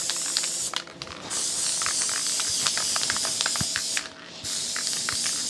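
A spray nozzle applies finish to a wooden outfeed table built for a SawStop table saw, giving a steady, loud hissing spray with brief pauses near the start and again around four seconds, mixed with small clicks from the sprayer.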